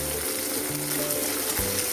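Cauliflower and mixed vegetables frying in hot oil in a pan for a quick mixed-vegetable pickle, giving a steady, close sizzling hiss with faint low hum underneath and no talking.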